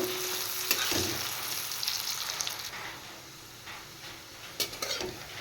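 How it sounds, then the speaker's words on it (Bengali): Onions fry in mustard oil with a continuous close sizzle, punctuated by several clicks and scrapes of a utensil stirring the pan, without any voices. "এবার পেঁয়াজগুলো একটু ভেজে নেব"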